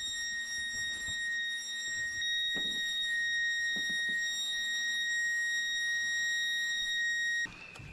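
An alarm sounds continuously as a steady high electronic tone held for several seconds, with faint background knocks and movement beneath it, then abruptly cuts out near the end.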